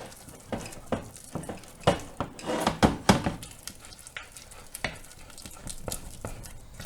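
Homemade clay being mixed in a bowl, with irregular scraping knocks and thuds of the utensil against the bowl, some louder strokes mid-way, heard close and without talk.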